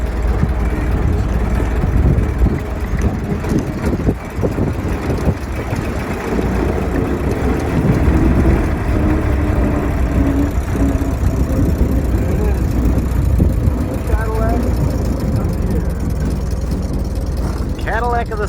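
A 1915 Ford Model T engine running after being hand cranked, a steady loud rumbling idle that holds for the whole stretch, with people talking over it.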